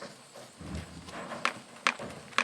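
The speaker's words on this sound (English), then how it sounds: "put her horse on the horse trailer" Horse hooves clopping on a surface as a horse is led onto a horse trailer, with a few sharp louder knocks near the end, close and fairly quiet.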